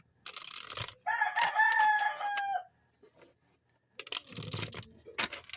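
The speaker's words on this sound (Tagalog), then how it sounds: "Pati yung mga manok nila nag-iingay na." A rooster crows loudly once in a long, drawn-out call, framed by bursts of rustling and clucking from nearby chickens.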